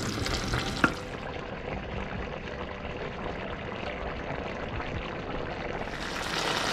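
A pot of curry with coconut milk simmers with steady bubbling and sizzling, with a brief clink near the start; no voices.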